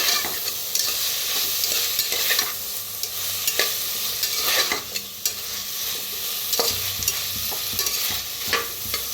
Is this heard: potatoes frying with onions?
yes